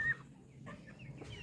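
A very small chicken makes a few soft, quiet clucks across a second and a half of low background noise.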